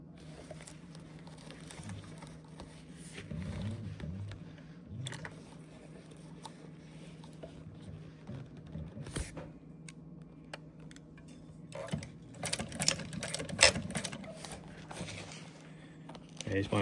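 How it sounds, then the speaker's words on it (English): A sewing machine top stitches a folded upholstery seam, its quiet rapid patter and ticking coming in bursts near and faint, with a person talking in between. "Now we're going to top stitch."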